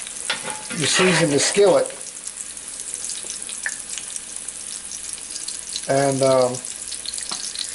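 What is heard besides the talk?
bacon grease sizzling in cast iron skillet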